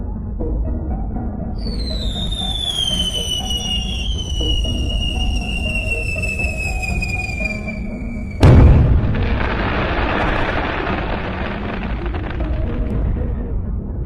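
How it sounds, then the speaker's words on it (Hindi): A big sky shot firework whistles upward with rising-then-falling squealing tones over a rumbling background, then bursts in one sharp loud boom followed by a crackling hiss. "सबसे पहले रॉड एक बड़ा वाला स्काई शॉट जलाता है।"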